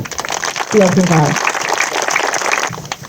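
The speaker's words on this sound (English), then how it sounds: "Boys and girls, can we give everybody a big clap?" Schoolchildren clap together at an outdoor bridge reopening in Monmouth, a steady crackling patter that follows a brief adult voice and carries on to the end.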